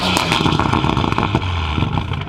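A loud drift car engine revs and snarls close by, rising and falling in sharp bursts with a rough, rasping tone and no talk over it.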